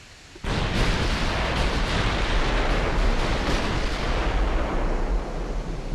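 Naval guns firing in Ultimate Admiral: Dreadnoughts, a sudden heavy boom that launches into a dense, sustained roar of broadside fire and rumbling blasts lasting several seconds before easing off, loud and close with no talk.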